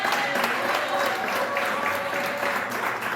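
A church congregation claps together in praise, a sustained, steady wash of applause from a roomful of people with a murmur of voices underneath.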